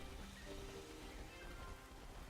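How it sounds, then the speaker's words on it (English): Steady, faint rainfall in Pokémon Scarlet & Violet hisses evenly throughout, a soft constant patter with no distinct drops standing out and no voices. "Oh no, it's raining."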